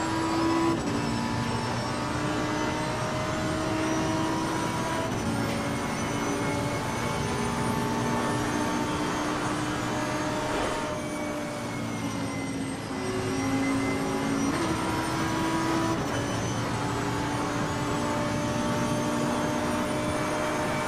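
AI race car engines in Assetto Corsa Competizione, a continuous loud layered engine drone with rising and falling revs through gear changes, several cars audible together with a brief dip midway.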